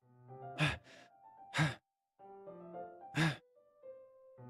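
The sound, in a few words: sharp inhale, sucking air through teeth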